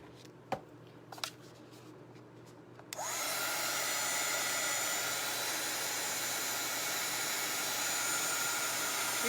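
A hair dryer is switched on and blows steadily, drying chalk paste on a craft project; a few taps and clicks come first, then a loud continuous whoosh to the end.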